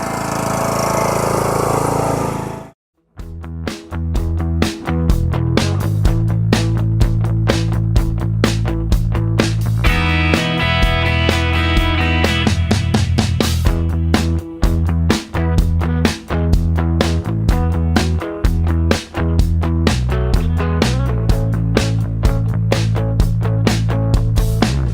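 A petrol lawn mower engine runs steadily and loud in a home garden after a brief start, with a constant droning hum and small fluctuations in load throughout, no voices over it.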